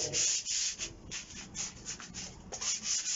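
Sandpaper rubs back and forth over a wooden Viking axe, taking it back to bare wood in close, rhythmic scratchy strokes.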